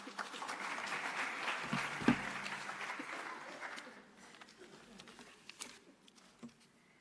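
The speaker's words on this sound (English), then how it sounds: "Please, will you clap your hands for my acting DG?" Audience applause at a government launch event, moderate clapping that swells early with a sharp louder clap near two seconds, then thins and fades toward the end.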